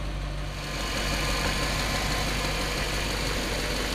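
A 1959 Chevrolet Bel Air's never-rebuilt engine idles steadily on a cold start, rough, loud and close, with a constant low chugging rumble throughout.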